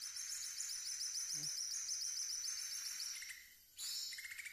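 A small betis merah dadu songbird, caught while bird trapping in daytime, gives a fast, thin, high chirping trill that stops briefly and resumes, quiet against a hushed outdoor background.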